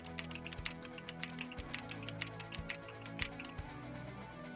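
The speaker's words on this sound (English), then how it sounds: "you're gonna hear a lot of clicking on my keyboard" Computer keyboard keys click rapidly and fairly evenly while someone types code, a steady close patter of individual taps over faint background hum.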